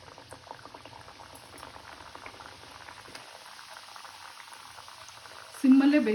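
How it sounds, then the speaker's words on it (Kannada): Badam puri dough frying in a pan of hot oil, a steady bubbling seethe throughout, ending in a louder burst of sizzling as more puri drop in. "ಬನ್ನಿ, ಈಗ ಇದನ್ನು ಡೀಪ್ ಫ್ರೈ ಮಾಡೋಣ."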